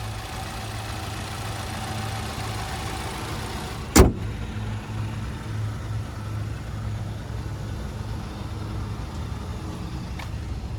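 A 2022 Cadillac XT5 with a 2.0-liter turbocharged four-cylinder engine idles with a steady low hum, broken once by a sharp loud click.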